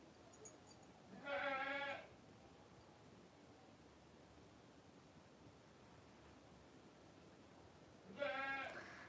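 A goat bleats twice, once near the start and again near the end, each call a short harmonic wavering cry heard fairly close over a quiet, hissy background with no talk.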